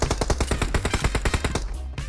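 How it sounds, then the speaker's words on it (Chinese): Rapid automatic gunfire rings out in the mobile shooter Peace Elite: a loud, fast burst of about twenty evenly spaced shots that stops abruptly near the end. "前面还有枪声。"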